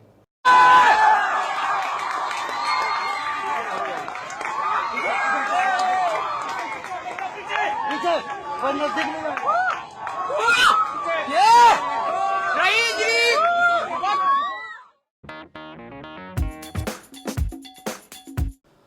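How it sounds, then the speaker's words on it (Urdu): A dense crowd of students chants slogans thanking General Raheel Sharif in Lahore, a loud continuous roar of many voices with shouts and cheering, cut off abruptly near the end by a few sharp, brief knocks. "طلبہ کا ایک جمع غفیر راحیل شریف شکریہ کے نعرے لگاتا ہوا ان کا دیدار کرنے کو پہنچ گیا"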